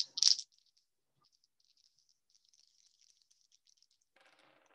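Dice shaken and tossed during a tarot-style astrology reading: one sharp, loud rattling burst at the start, then faint scattered clicks and a soft patter of rolling near the end, with no talking.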